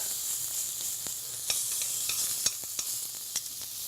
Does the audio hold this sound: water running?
no